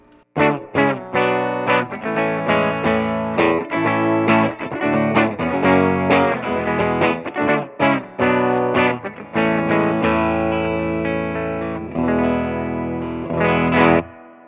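Jazzmaster electric guitar on its bridge pickup, with the pickup set to the correct height, played loud with distortion and effects: rapid strummed and picked chords in a busy rhythm, ending on a sustained ringing chord, no talking.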